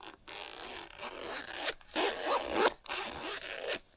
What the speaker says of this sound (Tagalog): Marinig yung zipper niya.